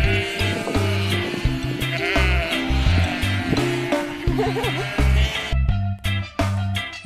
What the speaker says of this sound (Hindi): यह भेड़ है।